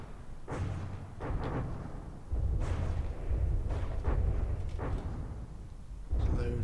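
Torpedo explosions hit the RMS Oceanic in From the Depths, a series of deep booming blasts spaced a second or so apart, each with a rumbling tail, while someone talks throughout.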